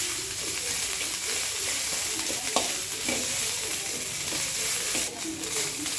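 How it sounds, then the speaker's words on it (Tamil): Ginger and garlic sautéing in a pan for egg noodles give off a dense, steady frying hiss throughout, close and fairly loud, with a few faint stirring knocks and no talk. "நல்லா இஞ்சி பூண்டு வதங்கட்டும்."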